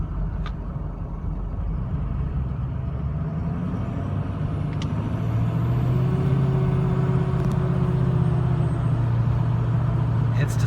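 A 2006 Ford F250 with a turbo engine drives through slow traffic. A constant engine and road drone runs throughout, and a tonal whine rises and holds through the second half.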